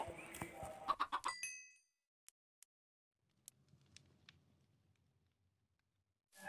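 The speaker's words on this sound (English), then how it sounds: "Feeding the chickens again to make a lot of babies." Minecraft chickens on a survival-game farm, a burst of several quick clucks at the start, then a few sparse clicks and faint soft rustling, quiet and without talk.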